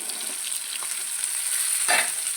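Tomatoes, three medium ones, tipped into shallots frying in a pan for tomato chutney, giving a steady close sizzle with brief bursts of spatter and stirring as they hit the hot oil.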